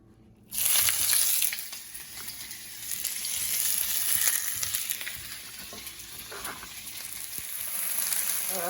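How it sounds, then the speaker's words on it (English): Potato, peppers and onion sauté in olive oil in a pan, giving a steady close-up sizzle with a bright hiss that starts abruptly and holds throughout, with faint crackles and occasional stirring clicks. "I'm going to saute it in there with some olive oil."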